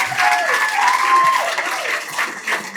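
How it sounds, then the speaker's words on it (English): Audience applause for a speaker at a Pechakucha Bermuda night, a short burst of clapping under a voice speaking over it. "Big round of to applause for Grace."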